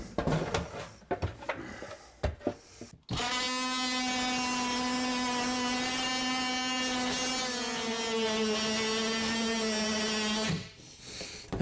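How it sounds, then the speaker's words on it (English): An oscillating multi-tool cuts into kitchen cabinet wood with a steady, high buzzing whine lasting about seven seconds, preceded by short clicks and handling noise. "So we're going to get our oscillating tool out, customize the whole environment"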